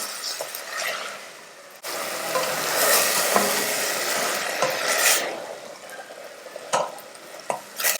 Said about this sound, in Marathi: अगदी हलक्या हाताने याला आपण तुपामध्ये परतून घेऊया